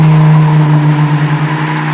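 Dodge Ram SRT-10 pickup with its V10 Viper engine revs loudly and close, a strong steady drone with a pulsing rise and fall, alone without talk, on a damp farm road.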